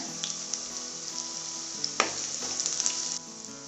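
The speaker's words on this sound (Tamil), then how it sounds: "இப்போ வெங்காயம் கருவேப்பிலை சேர்த்து வதக்கியாச்சுங்க." Shallots and curry leaves sautéing in oil in a pan for a Tamil kuzhambu, a steady close sizzle and crackle with a few sharp pops and the scrape of stirring, no talk over it.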